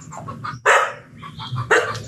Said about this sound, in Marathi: हे आमचं जुनं कुत्री चावत नाही ना?